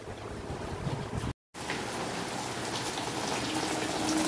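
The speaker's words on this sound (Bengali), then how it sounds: "এখন বৃষ্টি হচ্ছে, ভালোই বৃষ্টি হচ্ছে" Steady rain falls on a heavily overcast day, a soft continuous patter with a brief cut to silence partway through.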